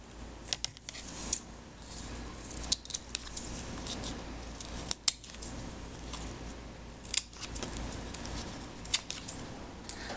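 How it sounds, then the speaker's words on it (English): Kitchen scissors snip the pointed tips off artichoke leaves: about five crisp cuts at a slow, even pace, close and fairly quiet, with soft rustling between them. "The next part is to trim each of the leaves."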